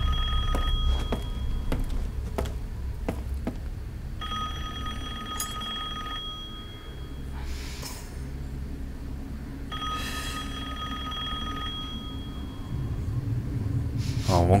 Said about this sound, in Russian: У них телефон имеется, что ли?